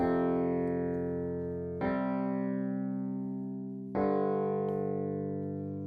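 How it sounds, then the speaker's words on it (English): Three sustained Wurlitzer electric piano chords are struck in turn, each ringing out and slowly fading, soft and unaccompanied. "I believe it's a Wurlitzer."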